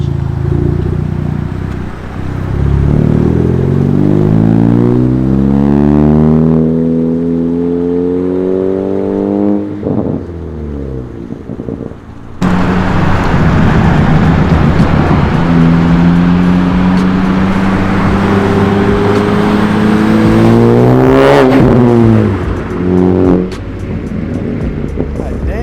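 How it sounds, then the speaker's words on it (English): Ford Focus RS with a carbon fiber intake, its exhaust revving hard: a loud, deep engine climbing in pitch through gears, a brief drop, then another strong pull with rising revs, close up and without talk. "Realize how good and deep my exhaust tone sounds like on camera"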